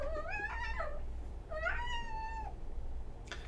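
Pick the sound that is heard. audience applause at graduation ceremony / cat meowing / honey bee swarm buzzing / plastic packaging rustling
cat meowing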